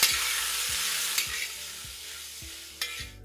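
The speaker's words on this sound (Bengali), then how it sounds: "পাতলা করে স্লাইস করে নিয়েছি, যেটাকে আপনাদের ততক্ষণ ভেজে নিতে হবে যতক্ষণ এর মধ্যে কালারটা চলে আসছে" Thinly sliced onions with salt fry in a pan for mutton masala curry, a steady close hiss of sizzling oil with occasional stirring knocks.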